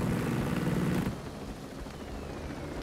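Helicopter in the Ghost Recon Breakpoint video game, a loud, dense rotor-and-engine roar for about a second that then drops to a quieter, steady hum, with no talk.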